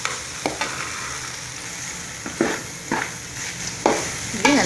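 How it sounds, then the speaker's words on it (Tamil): Vegetable noodles with masala are stirred in a pan, the spatula scraping in intermittent strokes against the metal over a soft steady sizzle. "இப்படி நல்லா கலந்து விட்டுக்கோங்க. நூடுல்ஸ் உங்களுக்கு டேஸ்ட்டாக கிடைக்கும்."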